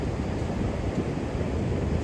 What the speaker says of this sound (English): that was a pretty big wave that just splashed up.